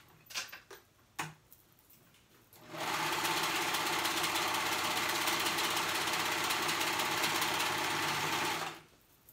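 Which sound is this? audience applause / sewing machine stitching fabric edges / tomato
sewing machine stitching fabric edges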